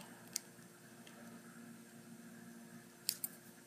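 Jewelry wire snipped with cutters while making a wire-wrapped beaded daisy ring, a single sharp click early, then two quick snips close together near the end, faint against a quiet room.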